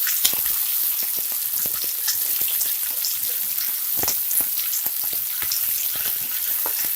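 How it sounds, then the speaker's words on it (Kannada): Lemon pepper chicken frying hard over a high flame, a dense steady sizzle crackling with sharp pops and spatters close up, no voices. "ನೋಡಿ, ಹೈ ಫ್ಲೇಮಲ್ಲೇ ಇದನ್ನ ಫ್ರೈ ಮಾಡಬೇಕು"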